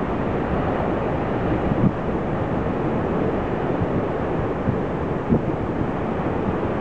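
Steady broadband wind rushing over open water at a windsurf slalom race at Almanarre, a continuous roar with no voices, gusting slightly now and then.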